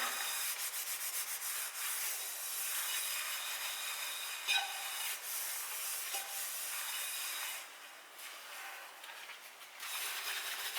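Continuous close scrubbing of a frying pan with Sunlight dish soap, a harsh rasping rub with brief pauses and a few light clinks, no voices.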